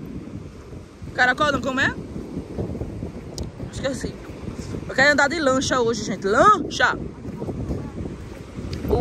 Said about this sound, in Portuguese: O vento tá babado aqui, tá muito vento.